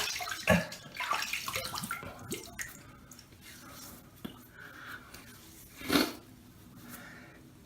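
Tap water splashes and runs unevenly as someone wets their face before shaving, with close, irregular splashes and drips and no talking.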